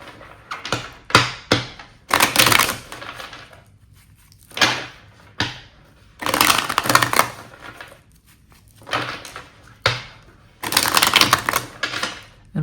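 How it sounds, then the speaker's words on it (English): Tarot cards shuffled hard by hand in several separate bursts of brisk riffling and slapping, each lasting a second or two, close and crisp, with short quiet gaps between them and no talking. "Do a good hard shuffle"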